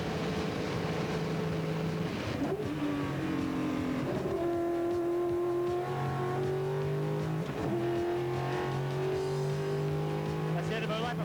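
Touring car flat out down Conrod Straight at Bathurst during 1995 ATCC qualifying, the engine a loud continuous drone that climbs in pitch through the gears with brief dips at each shift, heard close throughout.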